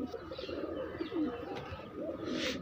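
Madras pigeons coo at a bird market, soft low rolling coos repeating close by in a few throaty phrases, with faint chirps mixed in and no talking.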